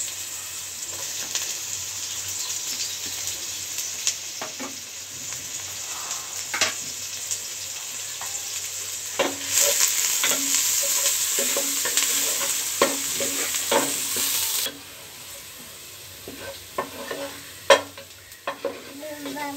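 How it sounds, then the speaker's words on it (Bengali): Onions fry in oil until crisp for soybean biryani, a continuous close sizzle with frequent stirring scrapes and clicks, loudest in the middle and easing toward the end. "এখন পেঁয়াজটা দিয়ে দিচ্ছি, পেঁয়াজটা বেরেস্তার মতো ভেজে নিব।"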